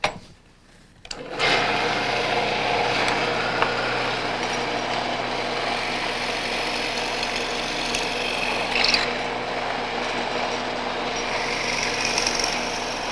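A Shopsmith Mark V boring dowel holes in wood, starting with a click before the motor kicks in, then a steady loud whirring drone with rough grinding and rasping as the bit cuts, close, no talking.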